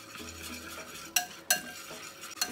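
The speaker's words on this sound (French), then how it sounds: "Maintenant, je vais rajouter un peu d'eau et mélanger le tout." Water is stirred into ground spices for homemade kilishi beef jerky, making a soft, close, wet mixing sound punctuated by a few sharp clinks of a utensil against the bowl.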